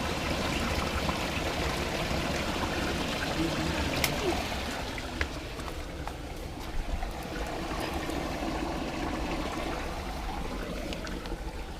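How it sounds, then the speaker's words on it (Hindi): Water trickles and gurgles steadily out of a mountain cave at Kallar Kahar, Chakwal District, a continuous low rush with occasional small splashes in an enclosed space. "पहाड़ के अंदर से पानी निकल रहा है"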